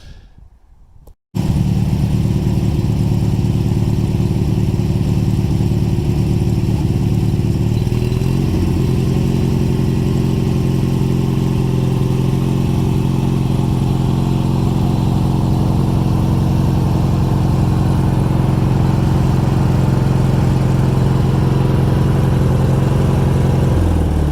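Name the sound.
riding lawnmower engine running while driving onto boards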